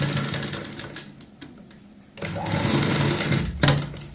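An electric sewing machine stitches piping around a kurti neck in short, stop-start runs of rapid mechanical whirring, with quiet pauses between bursts and a longer final run, close by.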